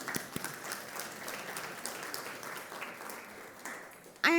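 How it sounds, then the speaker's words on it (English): An audience at a food and health summit applauds in a moderate, fairly steady patter of clapping hands with a few sharper individual claps, ending in a brief louder noise. "Let's give them a round of applause"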